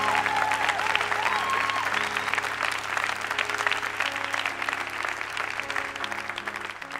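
A church congregation applauds the Lord in dense, continuous clapping that fills the room, with a few voices faintly mixed in under the steady roar of hands.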